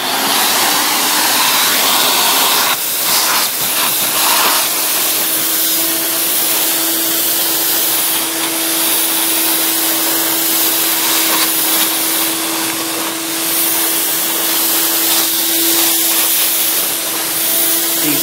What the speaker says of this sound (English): The suction is so strong on this thing that it really, you have to kind of force it along